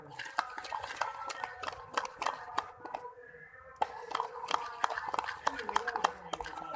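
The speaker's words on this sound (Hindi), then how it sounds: "4 से 5 मिनट अच्छे से इसको मिक्स कर लेंगे ताकि ये इसके अंदर अच्छे से मिक्स हो जाए चीनी" Sugar being whisked into eggs for a chocolate cake batter, a steady run of quick tinny utensil strikes against a bowl with a short pause midway, close and fairly loud, with a voice talking underneath.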